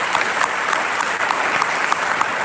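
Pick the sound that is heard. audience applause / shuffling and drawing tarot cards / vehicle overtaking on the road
audience applause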